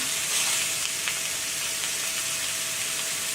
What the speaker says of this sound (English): Burgers going down. I'm cooking mine in a pan